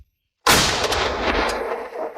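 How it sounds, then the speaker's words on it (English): Cannon artillery fire in wartime combat: a sudden loud blast after a brief silence, followed by a long rumbling, crackling decay with no voices. "With the help of the cannon,"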